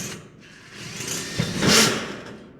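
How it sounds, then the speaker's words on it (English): Screws being driven into a round pipe, heard as a continuous close mechanical whir and grinding that swells midway and peaks briefly before easing off, with no talk. "put these screws into a round pipe"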